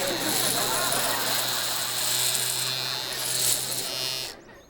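An electric razor shaves off a beard with a close, steady buzzing drone that runs unbroken for about four seconds and then cuts off abruptly, with voices faintly present.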